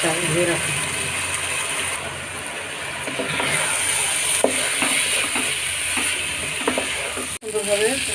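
Loud, steady sizzle and scraping of rice and mung dal being stirred and fried in a pot, with a spoon rasping repeatedly and brief speech underneath.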